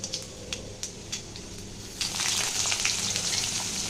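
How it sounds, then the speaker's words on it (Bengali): Potato and eggplant pieces frying in mustard oil with five-spice seeds in a kadai: light crackles at first, then a loud, continuous sizzle surges up and holds steadily. "অল্প আলু বেগুন দিয়ে দিলাম, এটাকে ভালো করে ভেজে নেব।"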